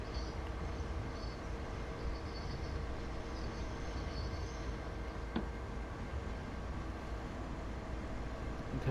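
A train rolls past in the Train Sim World 5 railroad simulation on the Boston–Worcester route near the Framingham yard, a steady, continuous rumble and hiss with no break.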